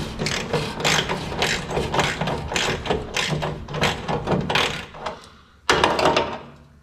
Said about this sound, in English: If I can keep my ratchet on it.